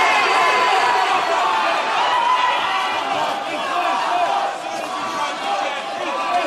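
A noisy crowd fills an indoor fight venue at Metro City in Perth, Western Australia, producing a dense, steady roar of voices with scattered shouts, loud and continuous throughout.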